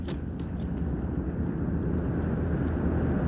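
An airplane engine roars in flight as a steady, dense low drone that fills the soundscape, loud and continuous with no voices over it.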